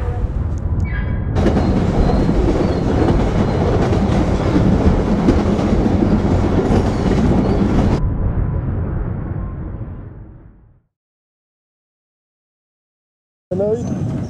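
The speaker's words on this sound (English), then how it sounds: "Now the train's going down to Pierhead" An Island Line train on the Isle of Wight rumbles loudly past with clattering wheels, heading toward Pierhead, then fades away into silence before a faint new sound begins.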